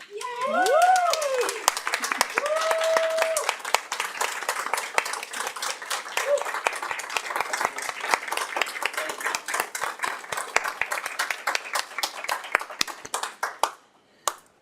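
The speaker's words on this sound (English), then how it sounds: "they couldn't wait to stand and clap and applaud" A school board meeting audience claps and applauds at length, a dense crackle of many hands that holds steady and then tapers to a few last claps, with a short burst of voices near the start.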